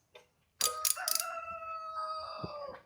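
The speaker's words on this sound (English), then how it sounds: "Little crazy rooster." A rooster crows once, a loud drawn-out call after a brief faint sound, alone and fairly near.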